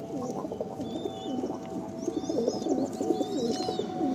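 Madrasi and Andhra pigeons coo continuously in low, warbling rolls at close range, with a few faint higher chirps over a steady hum of background noise from a baby pigeon sale setting.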